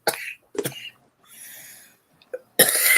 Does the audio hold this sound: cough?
yes